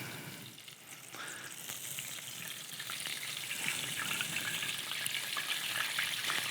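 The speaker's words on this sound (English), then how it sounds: "You can hear some of that juice coming out of the oyster itself." Oysters deep-frying in a fryer give a steady, moderately loud sizzle and crackle of hot oil that builds slightly over several seconds, with no talking.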